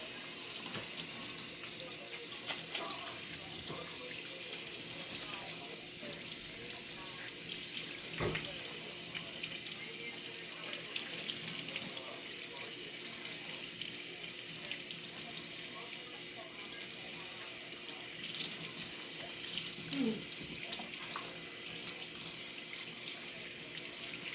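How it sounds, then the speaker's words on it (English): A tap runs steadily for over twenty seconds, a continuous hiss of water into a sink with occasional faint splashes and clinks. "I want to wash my hands. Soap,"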